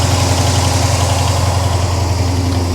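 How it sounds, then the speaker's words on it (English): A 1965 Pontiac GTO convertible's engine idles, a loud, close, steady low rumble with an even, smooth pulse throughout, and no talking. "Engine runs nice and quiet and smooth"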